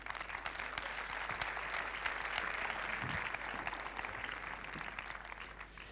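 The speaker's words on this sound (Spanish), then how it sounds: "Por favor, un aplauso para ellos." Steady, even applause from a large audience at a cloud technology keynote in Madrid, sounding somewhat distant and continuing without pause for the whole stretch.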